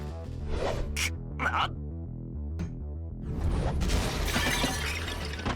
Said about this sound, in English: I smashed a blocking bone creature with the chair leg in my hand.